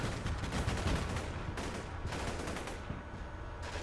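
Rifle squad gunfire in the wargame Combat Mission: Cold War, a steady stream of dense, overlapping shots and bursts rattling on for several seconds at moderate distance, with no voices.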